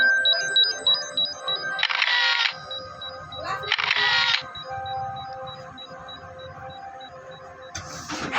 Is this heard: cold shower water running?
no